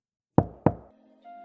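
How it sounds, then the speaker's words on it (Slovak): Two sharp, close knocks on a door come in quick succession, each with a short wooden resonance. A faint steady tone follows after a brief silence. "Klopala som na dvere"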